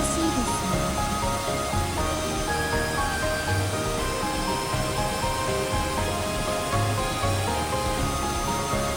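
A waterfall in Kumamoto or Oita, heard from behind the falling water, gives a dense, continuous roar of spray that stays steady and loud throughout, with a faint voice beneath it.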